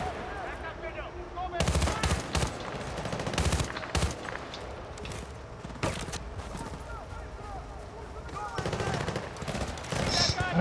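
In the video game Battlefield Bad Company 2, a mounted machine gun fires in several loud, rapid bursts of automatic fire, with gameplay effects and a voice talking underneath.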